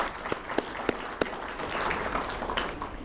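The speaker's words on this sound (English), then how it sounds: "Please give them a round of applause." A luncheon crowd gives a modest round of applause, opening with a few distinct sharp claps that swell into softer, scattered clapping in a room, with faint murmuring behind.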